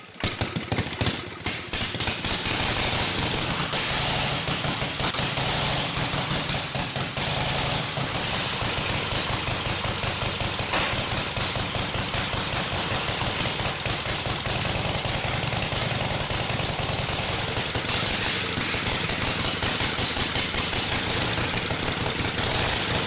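A vintage board track racing motorcycle, decompressed and pedal-started, fires up and runs: a loud, rough, rapid-firing engine pounding continuously at close range with a harsh knocking chatter and no talk.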